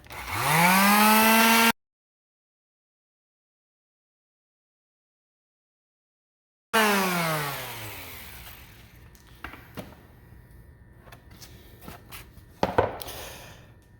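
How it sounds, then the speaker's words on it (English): A palm sander smooths the edges of a cutout in a bathroom floor with a close, loud whirring buzz. It starts with a short burst, goes silent for a long gap, then runs again and winds down. Scattered knocks and clatter follow. "I'm now going to take the palm sander and clean up the edges here."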